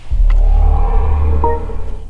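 A BMW start-up chime composed by Hans Zimmer, a deep swelling synthetic rumble with soft tonal notes that rises, holds and fades inside the cabin.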